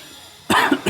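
A teacher coughs sharply once or twice at close range during a maths class, with a short throat-rasping burst after a quiet moment and no speech in between.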